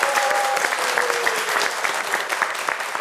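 Studio audience applause on a midday Ivorian talk show, a dense steady burst of clapping from many hands filling the whole stretch at moderate loudness, with no voices over it.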